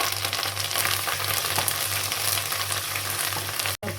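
Curry leaves drop into hot oil with lentils and garlic for village-style mango pulihora, giving a loud, steady crackling sizzle close up that runs throughout, with a brief dropout near the end and no talk.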